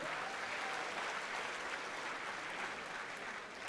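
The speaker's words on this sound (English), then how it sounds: "A big round of applause for SSEB." Applause from a large conference audience of accounting students at an inaugural session is heard as a continuous, fairly distant wash of clapping that holds steady from start to finish.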